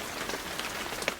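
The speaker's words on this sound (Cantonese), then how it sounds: "係雨水淅瀝瀝嘅聲音。" Brief patter of rain falling on a surface, a soft steady hiss with scattered drops, moderately quiet.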